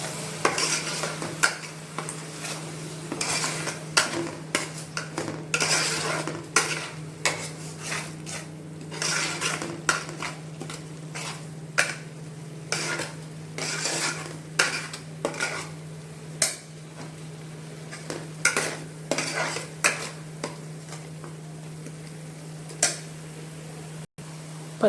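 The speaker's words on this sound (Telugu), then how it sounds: "వేసి అడుగు పట్టకుండా బాగా వేపుకోవాలి." Marinated fish pieces with turmeric and salt fry in a pan for a coconut milk fish curry, a soft sizzle under repeated rhythmic scrapes and clinks of a spoon stirring against the metal.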